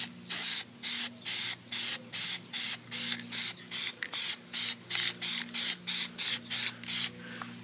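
A spray can applies paint to a car wheel emblem in short, even hissing bursts, about a dozen puffs in steady rhythm, close and loud, with a faint low hum beneath.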